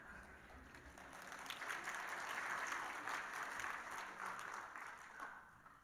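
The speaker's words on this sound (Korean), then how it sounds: "지난번 시간보다 박수 소리가 좀 적은 것 같아요" Church congregation claps through a sermon pause, a soft, fairly distant patter of many hands that swells in the middle and tapers off, with no voices over it.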